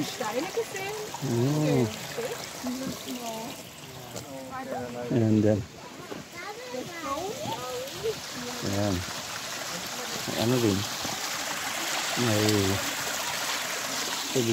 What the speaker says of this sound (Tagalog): May tubig. Parang sa Korean din. May mga tubig.